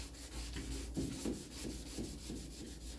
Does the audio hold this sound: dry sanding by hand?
yes